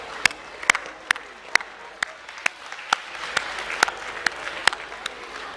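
A school assembly audience claps for academic award winners, giving sparse, evenly spaced sharp claps over a quiet hall murmur.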